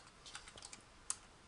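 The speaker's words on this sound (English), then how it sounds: "you could type in a name" Typing a disc title on a computer keyboard, a quick run of soft, close key clicks with one sharper tap near the end, faint and with no speech.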